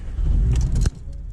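A manual Porsche 718 Boxster GTS starts on the key with the clutch in, a brief churn followed by a loud low rumble that cuts off sharply, leaving a quieter idle.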